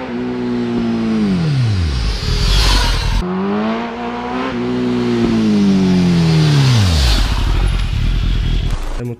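A Kawasaki motorcycle engine revs up hard twice, each time climbing to a high scream at the rev limiter and then falling back, loud and close.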